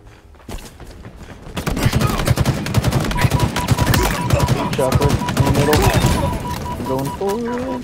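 Dense gunfire crackles and rattles in a Halo multiplayer match, rapid, loud shots piled over one another, with tonal game sounds and chatter mixed in.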